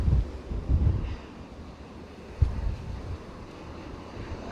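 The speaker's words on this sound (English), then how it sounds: "it's really windy" Strong gusty wind buffets the microphone outdoors at an airport viewing area on a cold bank holiday, giving low rumbling bursts with a sharp thump partway through.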